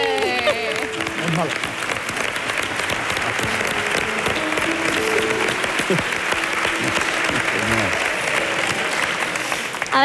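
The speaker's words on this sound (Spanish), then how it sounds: "Un aplauso para la productora" A talent show audience in Spain breaks into loud, sustained applause that fills the room, with a host's voice talking over the clapping throughout.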